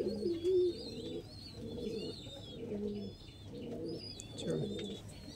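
Lalsira and KTM Teddy breed pigeons coo in repeated low, throaty phrases close by, with faint higher chirps from other birds in the background and no talk.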